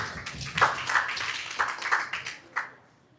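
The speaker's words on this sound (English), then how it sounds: "Let us clap for our elders in the house." An audience claps for the elders in the room, with a scattered, uneven burst of claps that rises in a few surges and then tapers off into quiet.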